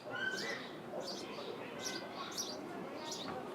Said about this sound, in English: Hear the birds chirping here at Capital Credit Union Park.